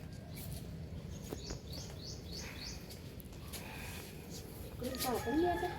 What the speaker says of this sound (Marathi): इथे तुम्हाला खूप साऱ्या पक्ष्यांचा आवाज येत असेल.